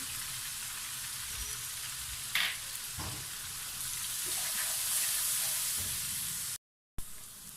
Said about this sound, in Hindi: अब हम इसमें डाल देंगे लहसुन अदरक का पेस्ट, ये नमक मिर्च और हल्दी